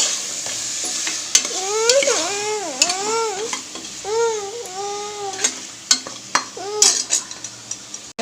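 A spatula stirs masala in a frying pan, scraping and clinking against the metal with soft sizzling underneath, while a loud high-pitched wailing, like a baby crying, rises and falls over the cooking.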